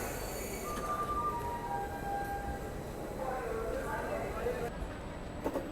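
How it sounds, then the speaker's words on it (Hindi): A freight train hauled by a WG 9 locomotive rolls into a station near Bhagat ki Kothi shed, heard as a faint, distant rumble with thin, high wheel squeals drifting over it. "WG 9 के साथ मालगाड़ी फ़िलहाल एंटर कर रही है"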